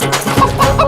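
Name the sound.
chicken clucking after flying away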